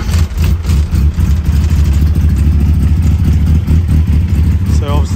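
A 1380cc GT Mini with an upgraded cam runs cold and loud at close range, its lumpy, uneven idle throbbing steadily with brief revs, while a voice talks over it.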